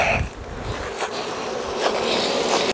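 A dense, continuous buzz of many honey bees swarming close by during a honey harvest, steady and loud with no talking.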